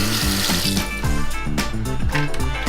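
Tap water runs steadily over a removed part from a Geberit Sigma concealed cistern as it is rinsed in a sink, a continuous close splashing rush lasting throughout, with tonal humming underneath.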